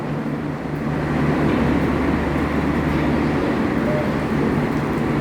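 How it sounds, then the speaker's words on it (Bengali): A train at Chatmohar railway station in Pabna gives off a loud, steady rumble. A broad roar swells slightly and holds, with a low drone underneath and no distinct horn. "ট্রেনটা কীভাবে যায় আমরা এটা দেখবো।"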